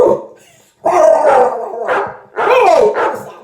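A person imitates a dog, giving a few loud, drawn-out howling barks in separate bursts with short pauses between.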